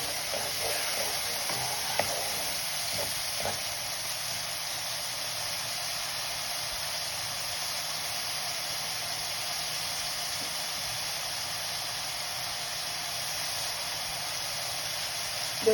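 Onions for an egg curry frying in a pan, a soft, continuous sizzling hiss with occasional faint stirring clicks early on, steady and fairly quiet throughout.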